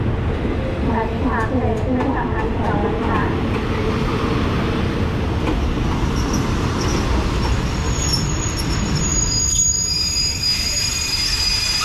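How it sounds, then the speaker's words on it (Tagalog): A train at a station platform in Thailand on the Ayutthaya line: loud continuous rumbling rail noise with metallic wheel squeal, a broad wash of sound through the whole stretch, with voices murmuring faintly beneath. "And this is the train."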